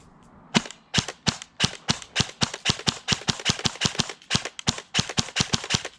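An airsoft gun fires BBs down range in a quick run of about two dozen sharp, crisp cracks at a fairly even pace. The shots are loud and close, with no talking.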